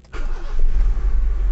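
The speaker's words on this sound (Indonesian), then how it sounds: "ketika mesin ini saya hidupkan harusnya kedua-duanya mati" Car engine starting during a check of a lit battery warning light: a short cranking burst catches almost at once and settles into a loud, close, steady rumbling idle, with no talking.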